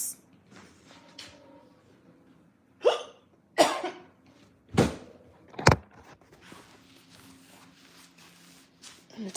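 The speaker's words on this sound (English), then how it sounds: "All because of the hiccups." Several sharp, distinct hiccups from a person, spaced a second or so apart and fairly close, with quiet room sound and faint movement between them and no talking.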